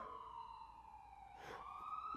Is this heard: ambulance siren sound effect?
yes